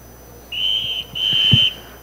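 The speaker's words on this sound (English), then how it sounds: "The whistle blows," A race official blows a loud whistle on the starting grid of a Rotax kart race: two sustained shrill blasts in quick succession, close and clear over low ambient noise.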